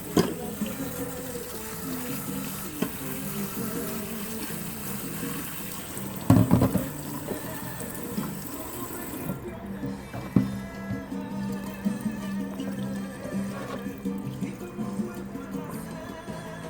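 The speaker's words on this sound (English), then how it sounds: "So just over cold water and take out all the potato starch." Cold tap water runs steadily over potatoes being rinsed of starch in a sink for a beef-and-potato dish, a continuous close splashing stream with a few clunks of handling and no one talking.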